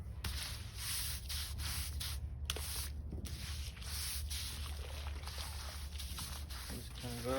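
Repeated rough scrubbing strokes go back and forth over the wet cracks between laid pavers, a steady, close, rhythmic scraping with a person talking over it.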